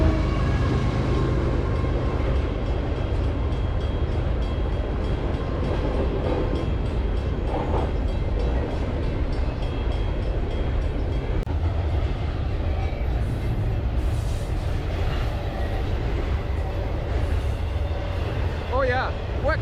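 A train rolls past close by a campsite beside a train yard in the countryside, a long continuous rumble with rattling wagons, and a person speaks now and then over the noise.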